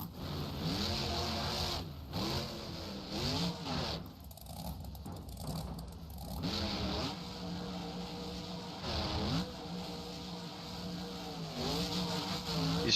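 Max D monster truck engine revving hard during a freestyle run over car and bus stacks at a Daytona event, rising and falling engine sweeps with a brief lull midway, recorded from a distance.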